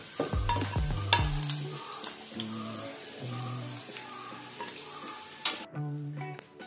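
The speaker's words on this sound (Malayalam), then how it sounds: "നമ്മുടെ ചിക്കൻ എല്ലാം ഏകദേശം നല്ലോണം മുരിഞ്ഞിട്ടുണ്ട്." Chicken fries in a pan for chicken pickle, a sizzling crackle with stirring clatter and scraping, close, fading near the end.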